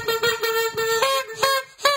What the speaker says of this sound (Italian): Trombetta!